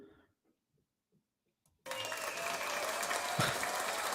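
Sudden burst of applause from a clap button's sound effect, loud and sustained after near silence with faint talk at the start.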